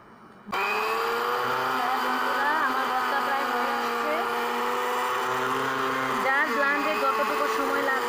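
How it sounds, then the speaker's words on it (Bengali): An electric blender grinds kalonji (black cumin) paste into a preserved bhorta, starting after a brief quiet moment and then running loud and steady with a whining motor tone that wavers slightly near the end. "কয়েকবার নেড়ে আমরা এটাকে ব্লান্ড করে নিব।"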